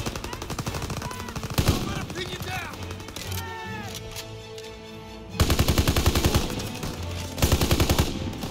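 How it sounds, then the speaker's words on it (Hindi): Automatic weapons fire in a WW2 shooter video game, with rapid bursts of machine-gun shots in several loud stretches, a quieter lull in the middle and a speaking voice in between. "ये ले गोली खा।"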